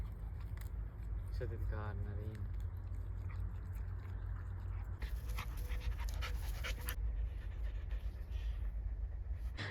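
A dog out on a walk in Kyiv gives a short burst of panting and a yelp. Outdoor street noise and people talking mostly cover it.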